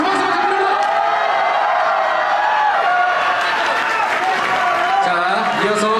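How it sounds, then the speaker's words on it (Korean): Spectators at a Korean featherweight boxing championship in Seoul applaud and cheer after the title announcement, loud continuous clapping and crowd noise mixed with amplified talk and what sounds like music running underneath. "여러분 큰 박수 부탁드립니다."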